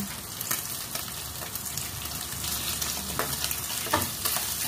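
Onion frying with bitter gourd in a pan, a continuous close sizzle with occasional stirring scrapes, no talk.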